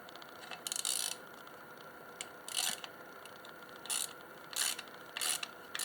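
A ratchet wrench clicks in short bursts while tightening down during valve guide seal work on a Detroit Diesel 8V71 engine, the ratcheting close and crisp with brief pauses between strokes.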